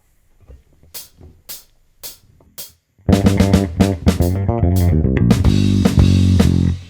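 Several short, muted plucked bass notes are followed by a busy, punchy funk bass line with drums joining in, loud and rhythmic.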